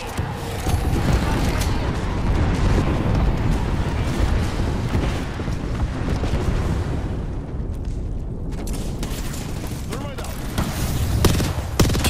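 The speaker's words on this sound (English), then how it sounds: "Eat a thermite grenade." Thermite grenade bursting and burning in Apex Legends amid a firefight, a dense roar of fiery crackle mixed with rapid gunfire and booms, loud and close, with voices talking over it.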